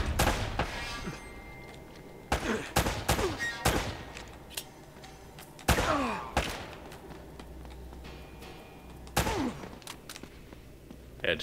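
Gunfire in Uncharted: Drake's Fortune, with sharp shots scattered across the stretch, some in quick bursts and others alone, over low ambient rumble with no talking.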